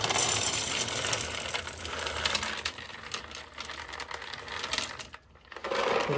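Corn kernels pour into the hopper of an old Dickey-john moisture tester with a dense, continuous rattling hiss of grain, close and fairly loud, easing briefly before a short silence and resuming.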